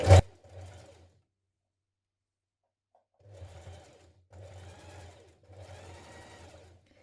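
A sewing machine runs top stitching around the neckline of a Bellini blouse, starting after a sharp click and a pause, then stitching in three close, steady bursts of moderate loudness with no talk.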